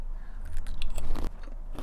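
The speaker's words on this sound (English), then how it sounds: "Fried sweet potato chips coated with butter caramel" Fried sweet potato chips coated in butter caramel are crunched up close, with several crisp bites followed by loud chewing.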